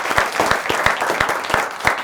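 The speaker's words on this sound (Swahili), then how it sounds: "Wapi makofi ya Thomas?" An audience applauds Thomas Kaberi after his talk on dressing mistakes, a fairly small crowd clapping in a brisk, near, rhythmic patter with individual claps standing out.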